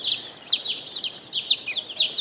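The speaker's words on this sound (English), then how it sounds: "letting these little new chicks, three-day-old chicks, eat out of her hand" Three-day-old chicks, including a blue Andalusian, peep while eating out of a hand. Their high, thin chirps come in a continuous, overlapping stream at close range with no talking.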